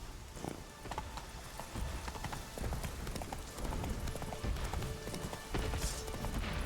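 Horse hooves clip-clopping at a steady galloping rhythm in The Witcher 3: Wild Hunt, continuous and fairly loud against a busy game soundscape, with a brief whinny-like note.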